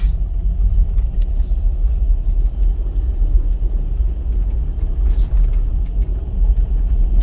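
1997 Toyota Land Cruiser FZJ80 with snorkel cruising along, a steady low engine and road rumble heard from inside the cabin, with a few faint clicks and rattles.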